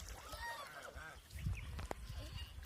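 Ducks honk and call on a river, faint, nasal calls rising over a low rumble of outdoor noise, with a brief sharper knock midway.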